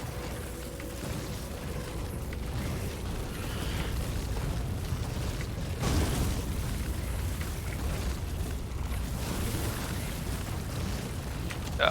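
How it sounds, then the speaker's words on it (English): Booming cannon shots in a factory-themed video game, a steady low rumble of blasts with a sharper boom near the middle and another at the very end. "I will try to be very precise with my cannon shots."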